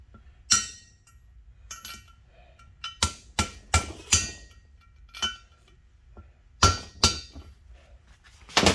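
Sharp metallic hammer strikes on a valve seat in a Dodge Nitro 3.7 cylinder head, coming in uneven bursts of single and double taps with quiet pauses between, close and fairly loud.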